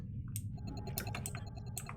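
Quiet, scattered clicks of a computer mouse and keyboard keys, irregular taps over a low steady hum.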